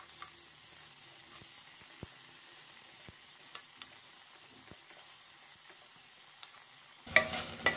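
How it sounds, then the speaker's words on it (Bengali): Blended chicken fries in oil on a low flame for a green mango chutney, giving a soft, steady sizzle with occasional small taps, then a louder clatter of stirring in the final second. "লো ফ্লেমে ফ্রাই করে নিচ্ছি।"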